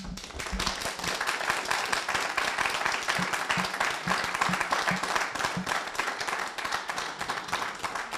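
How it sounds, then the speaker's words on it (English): Audience members at a town zoning board of appeals meeting break into applause, a dense spread of many hands clapping that holds steady and fairly loud for several seconds in a meeting room. "No need for applause."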